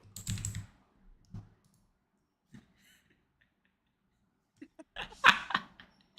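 Someone types on a computer keyboard in short, quiet bursts of clicking, separated by near silence, with faint chuckles and voice sounds in between.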